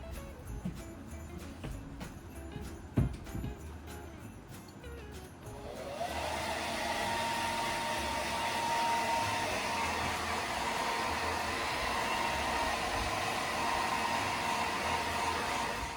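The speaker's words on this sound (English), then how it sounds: "I have a blow dryer right over here." A blow dryer switches on partway through and runs with a steady, loud whooshing hum, preceded by faint handling clicks.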